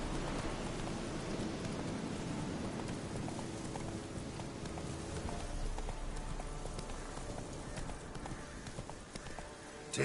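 Roach, the horse in The Witcher 3, gallops through rain with a steady clip-clop of hooves over a continuous wash of rainfall, both loud and close throughout.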